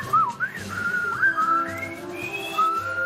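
A person whistles a short wavering tune alone, close and clear, with sliding pitch changes and a few breathy pauses.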